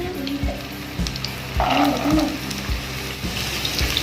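Potato and carrot pieces fry in hot oil, giving a steady close sizzle with bright crackles, while a spoon knocks and scrapes the pan at a regular rhythm.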